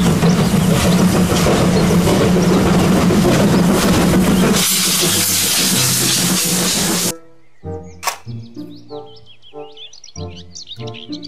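A Thomas toy train gives off a loud, steady hissing steam-like rush with chirpy whistling for several seconds, then cuts off abruptly, followed by bright, tonal sounds.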